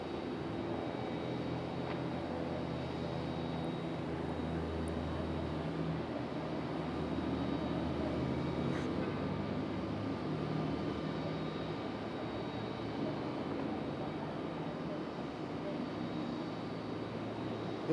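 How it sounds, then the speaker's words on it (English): A Southwest airliner lands at Raleigh-Durham International Airport. Its engines make a distant, steady low roar that swells slightly midway and stays faint throughout. "Got a Southwest landing over behind us"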